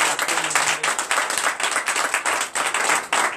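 A church congregation at a Sunday service in Benin gives a round of applause, dense and steady, with many hands clapping nearby and in the room.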